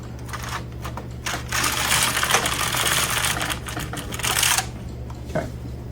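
A Hamanaka Needle Knitter knitting machine clatters through basic stitches, a dense rattling carriage pass broken by brief pauses, close and fairly loud with no talking.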